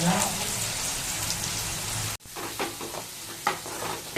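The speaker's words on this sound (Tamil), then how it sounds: "வெங்காயம் மஞ்சத்தூள் நல்லா வாசனை வராத மாதிரி வதங்கிச்சு" Onions and turmeric, with curry leaves, sauté in a pan: a dense hissing sizzle broken by a brief pause, then crackling bursts and stirring clatter up close.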